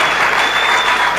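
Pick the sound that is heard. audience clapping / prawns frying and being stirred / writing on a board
audience clapping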